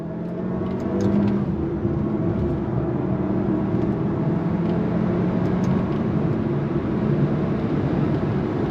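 A 2025 Alfa Romeo Tonale Tributo Italiano SUV accelerates on throttle in second gear, its engine a steady, loud drone heard from inside the cabin with a faint rising tone and no voices.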